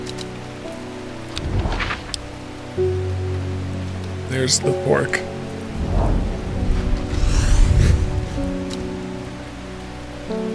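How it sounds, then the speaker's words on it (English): Rain patters steadily in the video game Strange Horticulture, rising in bursts with rumbling thunder, while someone talks over it. "The heavens open up as I reach the fork. I take a moment to pause and listen to the sound of water on water."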